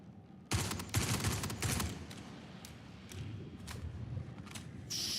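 Rapid automatic gunfire in the sci-fi shooter Star Citizen, a dense burst of shots from nearby, trailing into quieter scattered pops and thuds, no speech.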